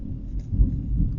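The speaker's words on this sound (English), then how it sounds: "Oh, I hear thunder." Thunder rolls nearby in a low, continuous rumble that swells briefly in the middle, heard alone and fairly loud.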